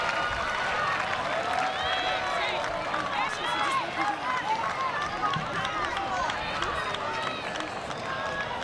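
Stadium crowd noise from a women's college soccer match, North Carolina against Duke, with a steady roar, scattered shouts and whistles and some clapping. It holds for the whole stretch under a bright, busy wash of many voices.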